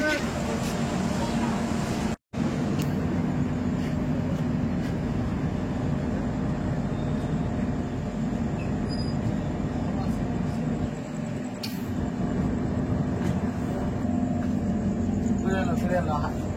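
The Humsafar Express runs onward from Santragachi station on its way to Jabalpur, a steady, unbroken rumble of wheels and carriage noise that fills the whole stretch, with one brief dropout near the start.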